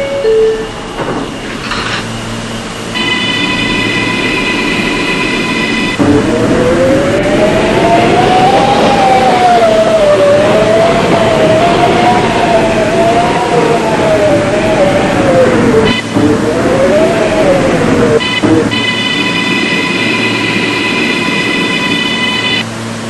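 A New York City subway train on the B/D lines in a Roblox game, a loud steady rumble with a rising and falling motor whine as it runs, plus electronic chime tones near the start and end.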